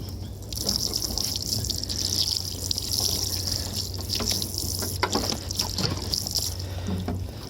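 Canal water splashes and trickles steadily over frosty solar panels on a narrowboat moored on a cold canal, a continuous close pouring sound with occasional small gushes and drips.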